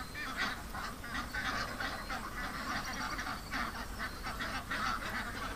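Farm ducks that won't go down to the water quack and honk in a steady, busy chorus at moderate distance, continuous throughout with no voices.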